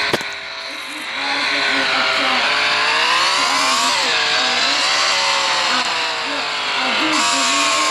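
Racing car engines in a video game race roar loudly and continuously, with revving pitch that dips and climbs as the cars accelerate through the lap.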